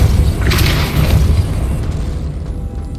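A Depulso spell blast in Hogwarts Legacy lands as a loud, deep booming burst with a bright crackling flash early on, then rumbles and fades over a few seconds.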